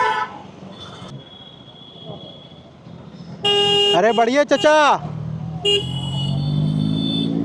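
A car horn blares in a couple of sustained honks amid traffic noise, with someone talking before and after.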